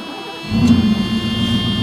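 A 1988 Mercedes-Benz 560 SL roadster's engine cranks briefly and catches, settling into a steady, close idle hum with a low throb and no voices.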